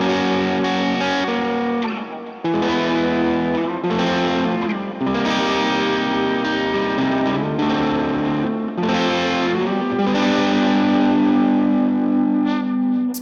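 Mexican Fender Stratocaster Deluxe electric guitar played through its bridge pickup in humbucker mode, loud distorted chords ringing with chorus and echo, struck in rhythmic bursts with a brief pause near two seconds and sustained final notes.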